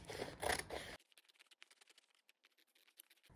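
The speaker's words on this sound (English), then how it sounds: "Now I can cut it out with my paper scissors," Paper scissors snipping through a paper pillow pattern, a quick run of small dry crisp clicks and cuts close by, following a louder burst of handling noise at the start.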